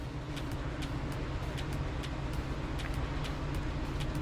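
A Maytag Centennial washer, its drum banging against the sides from worn shocks, runs a high spin cycle as a loud, steady mechanical rumble with regular light ticking accents.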